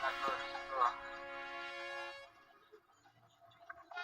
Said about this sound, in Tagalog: Ayun, bumusina ulit.